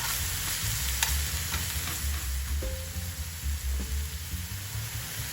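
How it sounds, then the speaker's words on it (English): Ground beef stir-fried in a well-heated pan with a little cooking oil, a steady close sizzle with rhythmic scraping and stirring strokes throughout, no voices. "Stir fry the ground beef."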